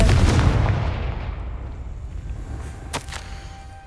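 A Confringo blasting spell in Hogwarts Legacy goes off as a sharp whip-like crack and booming blast that decays into a fading rumble, with a faint tail and brief clicks near the end.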